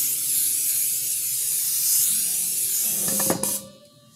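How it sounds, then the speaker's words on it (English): A steady hiss of aerosol cooking spray onto a casserole pan runs for about three seconds, then a few clinks and a short clatter as the can is set down. "Spray the pan with non-cooking spray."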